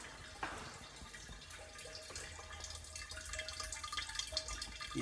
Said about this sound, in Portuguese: Isso é tudo que está saindo de água da torneira.